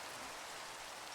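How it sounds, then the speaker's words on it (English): Rain falling in Minecraft makes a soft, steady hiss of drops on surfaces, even and faint throughout with no other sounds. "Now it's raining."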